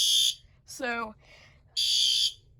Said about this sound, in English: Our pull station now just activated, the light has gone solid, and our alarm is now going off.